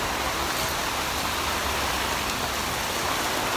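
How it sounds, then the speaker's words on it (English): Heavy torrential rain pours down at an RV campground at McKinney Falls in a steady, dense hiss that continues unbroken with no voices. "torrential downpour suddenly"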